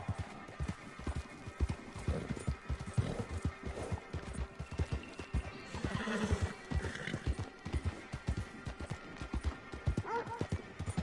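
Horse hooves clip-clopping steadily in Red Dead Redemption Online, with repeated whinnies and neighs breaking through, close and fairly loud throughout.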